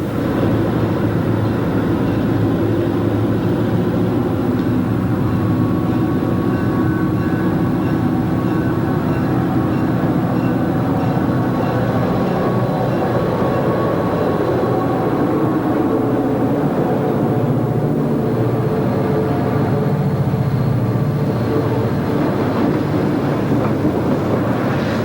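A Conrail eastbound freight train rolls past on the old Erie Main, a loud steady rumble and clatter of wagons continuing throughout, heard close with some wind buffeting on the microphone.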